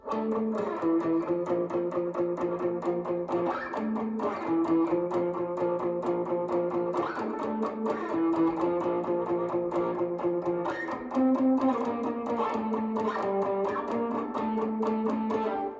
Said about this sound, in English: The verses start out with some octaves,